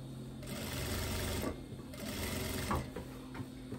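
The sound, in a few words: sewing machine stitching a seam on fabric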